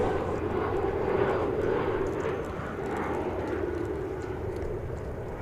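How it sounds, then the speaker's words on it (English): An Embraer 175 jet landing at Dallas Fort Worth airport, its engines producing a broad, steady roar that holds loud and constant throughout, heard from a distance outdoors. "It's an Embraer 175, I believe."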